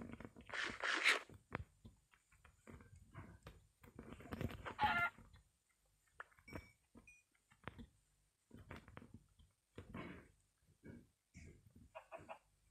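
A chicken in Minecraft gives short clucks in separate bursts with quiet gaps between them, fairly close and fairly faint.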